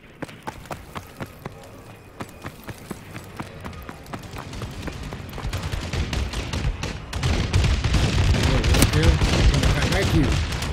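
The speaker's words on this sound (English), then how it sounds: "Friendly bombing run clearing the way." An airstrike bombing run with gunfire in a video game: spaced sharp shots at first, then a growing dense barrage of rapid explosions and blasts that gets louder toward the end.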